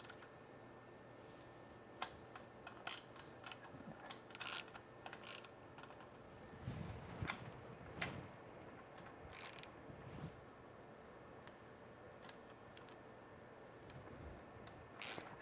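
A socket wrench fitted with an extension tightens bolts on a vacuum system, making faint ratcheting clicks and small metallic taps in scattered bursts over a quiet background.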